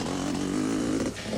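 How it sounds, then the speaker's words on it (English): Racing Kawasaki and KTM motorcycles, including a 500 class machine, roar loudly and continuously at a 1991 Sun City 400 race, the engine note shifting in pitch as a bike passes close by. "Patrick Andrews was now second, but leading the 500 class on the KTM"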